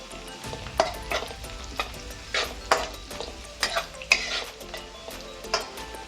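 Curry leaves go into browned onions frying in a pan for a Maharashtrian masala stuffed brinjal dish, steady sizzling under repeated clinks and scrapes of a spoon stirring against the pan, no talking.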